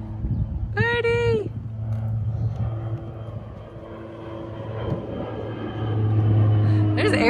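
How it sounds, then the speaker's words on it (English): Airplanes pass overhead, a steady low droning rumble that swells toward the end, with a brief voice heard near the start. "There's airplanes all over the place."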